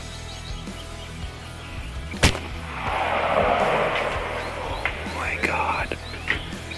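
A Dragon Claw .50 caliber Seneca rifle fires one loud, sharp shot at close range, followed by a rolling rumble and echo that fades over several seconds against faint outdoor background noise.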